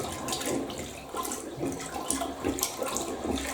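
A plunger works a clogged toilet, giving rhythmic wet sloshing and gurgling water pulses, several strokes in a few seconds, close and fairly quiet with no talking.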